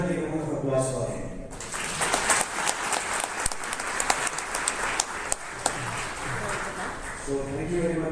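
Audience applauding a guest speaker at a C-DAC ACTS batch orientation program, a sustained round of clapping filling the room, with a voice speaking briefly before it rises and again as it dies away.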